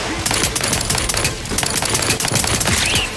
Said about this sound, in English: damn turrets won't make it easy for us